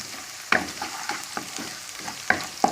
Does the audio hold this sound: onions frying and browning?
yes